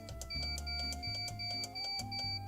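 A kitchen baking machine beeps in a steady repeating pattern of short electronic tones, close and clear, over a low droning hum from the appliance.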